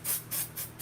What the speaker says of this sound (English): I spray it just to give my hair like texture